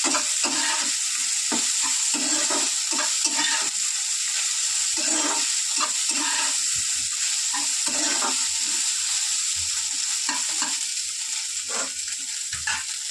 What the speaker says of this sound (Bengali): তো একটুখানি কড়াতে তেল দিয়ে দিলাম, আর এই সোয়াবিনগুলোকে একটু ভেজে নেব।